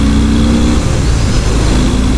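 A 2018 Harley-Davidson Fat Bob 114 Softail motorcycle accelerates hard on the road, a loud, continuous low engine roar with rising rumble and strong wind noise throughout, no talking.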